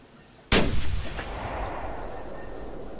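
A single unscoped 30-06 rifle shot in The Hunter Classic hunting game cracks loudly and suddenly, then rolls away in a long echoing tail over a quiet outdoor field background.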